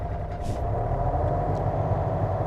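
A Yanmar VIO35 mini excavator drives, its diesel engine giving a steady, loud low rumble with a faint hiss, close and continuous.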